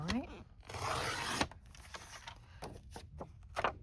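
A score line pressed into a paper dust jacket flap makes one sustained, close scraping stroke about a second long, followed by lighter rustles, taps and paper handling.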